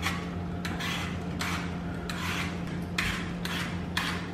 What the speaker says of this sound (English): Peel our sweet potato.